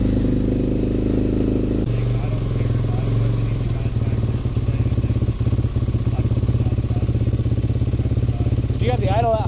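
A Suzuki LTZ400 ATV engine idles fast and steady close by, a continuous loud rumbling drone with a slight clatter throughout, and voices speak briefly over it.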